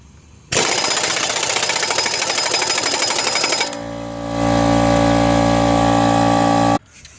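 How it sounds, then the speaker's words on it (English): Big impact wrench hammering on a 32 mm axle nut of a 2013 Nissan Murano during CVT transmission replacement, a loud rapid rattling burst followed by a second sustained run, then stopping abruptly. "I had to keep at it with my big impact here, but it did relent"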